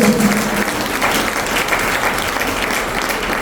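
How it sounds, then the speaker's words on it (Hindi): A seminar audience in Chandigarh claps loudly and continuously for a doctor, a thick, even wash of many handclaps filling the room from start to finish with no break. "अच्छा ताली हो जाए"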